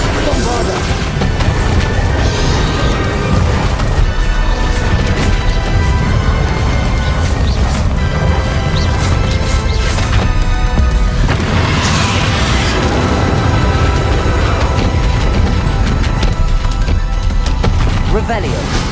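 Bombarda blasting spells in Hogwarts Legacy set off repeated heavy booms and crashing explosions that stack into a loud, continuous barrage of combat noise, with a voice faintly underneath.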